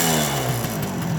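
A Suzuki GT250 X7 two-stroke motorcycle engine runs steadily at a low, even idle, a continuous mechanical hum with no talking.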